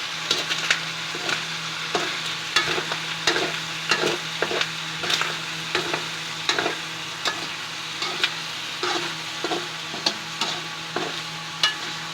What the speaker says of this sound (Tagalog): Yun guys, haluin na natin yan, ano? Dumidikit na siya guys.